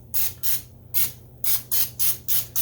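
Eight short cooking oil spray bursts onto a hot waffle iron in quick uneven succession, sharp hissing puffs close to the microphone over a faint low hum.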